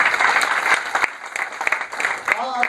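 Audience applause at a meeting between police and industry representatives, a burst of clapping from a hall crowd that tapers, with a voice speaking over the end.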